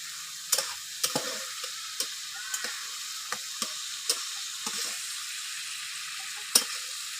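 Fish curry masala made with tilapia frying in a pan, a steady sizzling hiss broken by sharp intermittent scrapes and taps of stirring, close and moderately loud with no voices.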